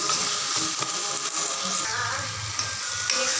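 Tomatoes with salt fry in a pan for chicken gravy, giving a steady, dense sizzle with light stirring scrapes throughout, close and fairly loud with no talking.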